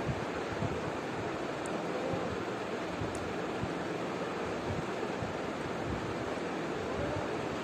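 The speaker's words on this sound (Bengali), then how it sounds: "দিয়ে দিচ্ছি দারচিনি, এলাচ। আবারও বেশ কিছুক্ষণ ভেজে নিচ্ছি।" Cinnamon and cardamom fry in a pan, giving a dense, even sizzle that holds steady at moderate loudness throughout, with no talking.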